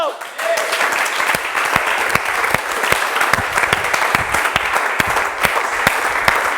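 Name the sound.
congregation applause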